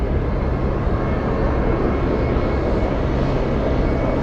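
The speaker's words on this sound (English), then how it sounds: "Alright, Dreamlifter is touching down right now." Boeing 747 Dreamlifter touching down at Anchorage airport, a broad, steady, loud engine roar without a break, heard from a distance with no talking.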